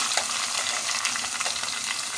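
Ginger garlic paste and green chillies frying in a pan for dhaba-style dal, a steady close crackling sizzle with small stirring scrapes, continuous and alone.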